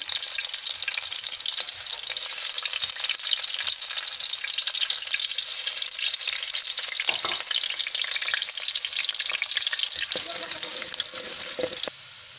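Steady, loud sizzling of garlic frying in hot oil while cooking sarson ka saag, a dense crackling hiss that continues throughout, with a brief clink of a utensil near the end.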